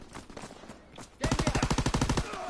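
Rapid automatic gunfire in a World War II video game, a loud burst of about a dozen evenly spaced shots that ends a quieter stretch of game noise.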